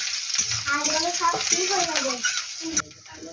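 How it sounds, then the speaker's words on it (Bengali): Potato curry fries in a pan with turmeric and spices, a soft sizzle and stirring scrape close by while a voice talks over it. "চলো হলুদটা দিয়ে দিলাম, মশলাতে ভাজবো।"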